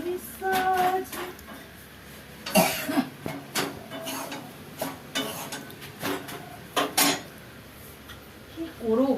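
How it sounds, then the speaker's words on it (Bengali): Dry, irritated allergy coughing comes in short, harsh bursts spread across the stretch, close and fairly loud, mixed with light clattering of dishes and cutlery in the background. "মানে কাশিটা এমন বিদঘুরে কাশি, মানে অ্যালার্জি কাশি, প্রচন্ড জ্বালাচ্ছে"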